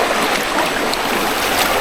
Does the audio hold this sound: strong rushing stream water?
yes